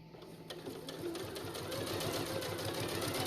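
A sewing machine stitches quilt binding with a rapid, even mechanical chatter, close and continuous, gaining a little in speed and loudness as it runs.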